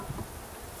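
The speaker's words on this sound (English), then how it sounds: "few bees got out, that's okay." Steady buzzing of honeybees being added to a top-bar hive fills the short stretch, dense and close, with no voices.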